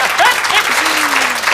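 Studio audience applause for a performer on a children's nursery rhyme television show, steady and dense, filling the short moment at full volume.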